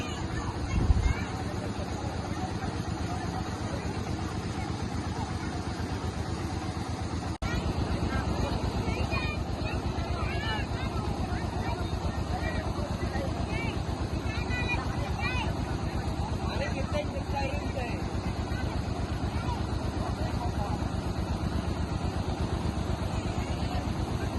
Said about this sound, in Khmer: ម៉ាស៊ីនមកបក់ស្រូវឲ្យមកស្អាត